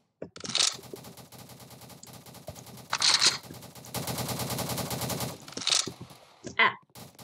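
Roblox Harbor Havoc gunfire comes in several loud bursts of rapid automatic shots separated by short gaps, with a longer sustained burst in the middle.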